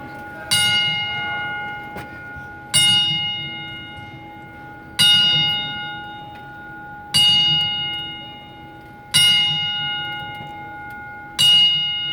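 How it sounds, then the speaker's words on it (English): A memorial bell at a Memphis wrestling event rings with loud, clear strikes, each one ringing out and decaying before the next arrives at a slow, steady pace, with no talk over it. "ringing the bell 10 times in honor of their memory"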